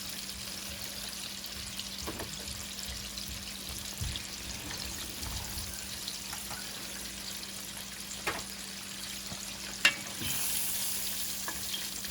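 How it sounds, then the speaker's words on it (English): Ribs frying in a pan of hot oil, a soft continuous sizzle with a few faint clicks and one sharper knock near the end, low and steady with no talk. "And now I'm going to get some more in the pan. And we're going to fry up these ribs."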